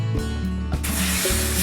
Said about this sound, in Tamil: தண்ணி கொஞ்சம் ஊற்றிக்கிடுறோம்.